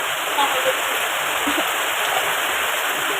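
Heavy rain pours and water flows in a dense, steady roar outside a house where water is pooling, loud and continuous, with people speaking faintly beneath it.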